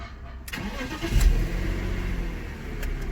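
A BMW E90 car engine cranks and fires up after a moment of near silence, catching with a brief rev before dropping into a steady, close idle.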